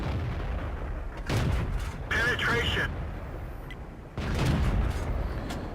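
Tank cannon shots boom in the World of Tanks video game, several heavy blasts spaced a second or two apart over battle noise, with a voice talking over them.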